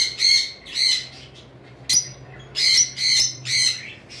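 Rosy-faced lovebirds let out about six sharp, loud squawking bursts in quick succession, with brief chirps between them, close to the listener against a low background hum.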